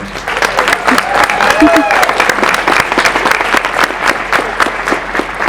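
A convention panel audience for Sophie Aldred cheering and clapping together, loud sustained applause with whoops and shouted voices rising over the dense clapping, close and full throughout.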